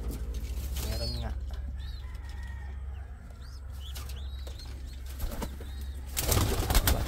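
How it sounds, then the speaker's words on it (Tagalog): Chicks chirp outdoors near banana plants, with high, thin rising peeps repeated at intervals against a low steady hum, as flapping and rustling noises pass close by. "May naririnig akong mga sisiw ah."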